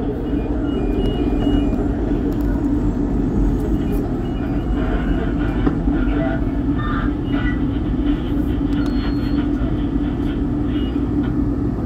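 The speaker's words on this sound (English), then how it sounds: "the train's moving slower now" SEPTA Market-Frankford Line subway train in motion, a loud, steady low rumble of wheels and motors heard from inside the car, with faint squeals and clatter above the drone throughout.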